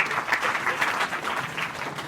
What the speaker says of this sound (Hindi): ताली बजाओ उनके लिए।